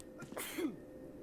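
A single quick sneeze bursts out in a quiet room, short and fairly close, with no talking around it.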